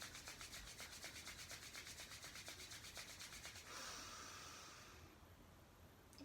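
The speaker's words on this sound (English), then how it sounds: "rub your hands together." Hands rub together rapidly in an even rhythmic swishing during a Kundalini yoga exercise, close and faint, giving way to a soft breathy exhale.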